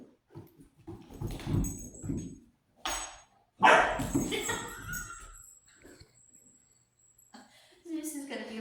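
Indoors among pet dogs and cats, a dog gives a few short, sharp barks and whimpers close by. People talk around them throughout.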